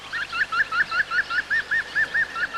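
A green woodpecker gives its far-carrying laughing call, a clear run of about twelve evenly spaced, ringing notes repeated rhythmically without pause, heard alone with no voices.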